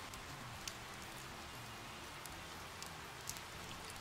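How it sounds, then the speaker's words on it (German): Steady rain in the firefighting game Emergency 4, a dense even patter of drops falling on surfaces with a few slightly sharper drips, constant and moderately loud with no voices. "Der Regen geht mir auf den Sack."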